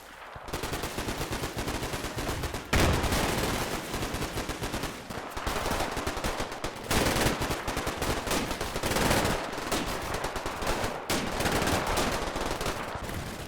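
Machine gun and rifle fire in the Combat Mission Final Blitzkrieg war game, loud rapid bursts and overlapping volleys of gunfire in dense clusters, with short gaps between salvos.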